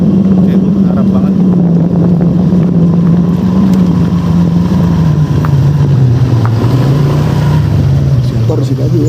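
A motorcycle passes at night near a campground on the way to a washroom block. Its engine drone falls and wavers in pitch over several seconds, with heavy wind buffeting the microphone.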